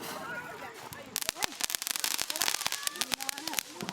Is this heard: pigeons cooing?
no